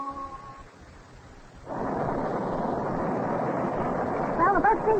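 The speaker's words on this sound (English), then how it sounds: "This storm scares me." Thunderstorm effect rolling in as a sudden, sustained roar of rumbling noise after a short musical lead-in, continuing loudly to the end with faint squeaky sounds on top.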